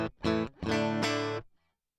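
An electric guitar runs through an Optocomp compressor on a Neural DSP Quad Cortex with no amp in the chain, giving a few short picked notes and a sustained chord that rings out and stops cleanly.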